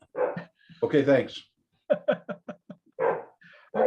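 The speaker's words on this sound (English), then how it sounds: "Whoever's dog that is needs to mute their microphone." A dog barks in a burst of sharp yips heard through a video-call microphone during an online slot car chat, and people talk briefly between the barks.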